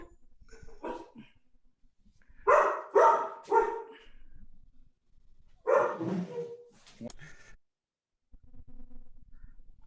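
Several dogs bark in short bursts, some close and loud, others fainter, with a brief whimper or yip between barks in a quiet room.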